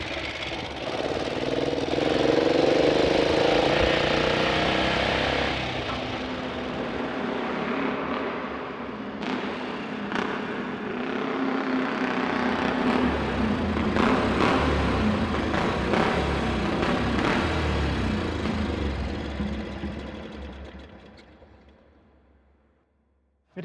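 A Jawa motorcycle engine runs steadily and loudly, its tone shifting as it revs, then fades away toward the end with no talking.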